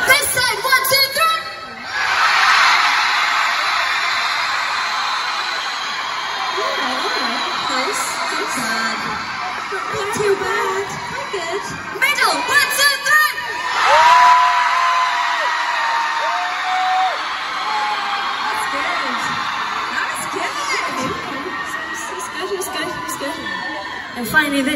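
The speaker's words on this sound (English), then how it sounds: "I want to hear you scream as loud as you can" A large arena crowd at a concert in Newcastle screams and cheers in long sustained roars, loud and close from front-row seats, with a voice calling out between the bursts.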